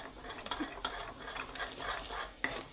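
A thick homemade hair mask mixture simmers quietly in a pot, with a soft bubbling hiss and scattered small pops and ticks.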